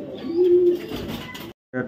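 A Royal Terry pigeon coos once with a steady low call, close by, over a busy background of other sounds and voices, followed by a short gap and a brief burst of noise.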